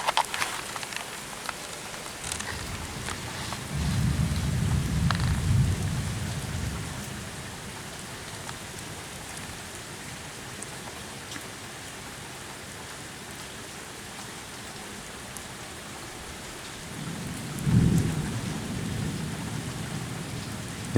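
Heavy rain pours steadily through a night thunderstorm with hail, and two deep rumbles of thunder swell up, one early and one near the end.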